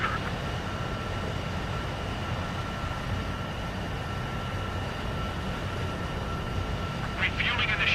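In the Ace Combat 7 game, a jet aircraft closes in on a refueling tanker. A steady engine roar with a high whine runs throughout, and radio-style voices talk over it.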